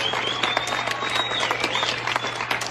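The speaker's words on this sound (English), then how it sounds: "People keep clapping." An audience claps steadily for a few seconds, with dense, continuous applause from a crowd and no voices over it.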